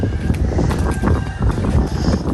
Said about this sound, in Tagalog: Dito po sa rooftop ay mahangin po talaga dito